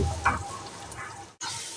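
Potatoes frying in a pan while being stirred with salt give a close, soft sizzle with a brief scrape of stirring, then cut off abruptly before the sizzle resumes.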